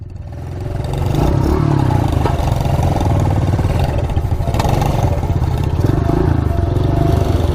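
A KTM mini bike engine drones steadily while being ridden on a wet trail, loud and close with clattering mechanical noise and rising revs, with no talk over it.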